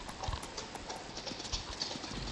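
Horse hooves clip-clopping in the Ranch Simulator video game, a quick steady run of light hoofbeats over a constant background wash, close with no talk.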